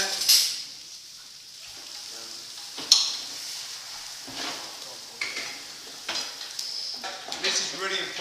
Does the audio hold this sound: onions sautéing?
yes